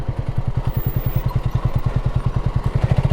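A Honda CB250RS motorcycle engine idles nearby with a fast, even thumping pulse, steady and fairly loud throughout, no talking.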